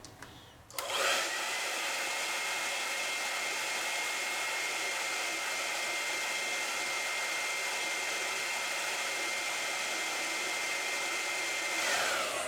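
A hair dryer blowing on wet acrylic paint switches on after a brief quiet start and then holds a loud, steady whoosh and whine close up until the end.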